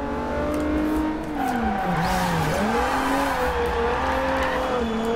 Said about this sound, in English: We got a lot of oversteer right now lot of wheel spin.